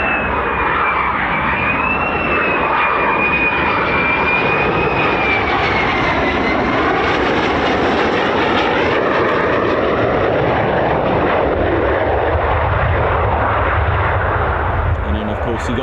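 Loud, continuous roar of an F-35A conventional-takeoff fighter jet engine at RAF Lakenheath, a US Air Force base, with a high whine sliding through the broadband rumble over sixteen seconds.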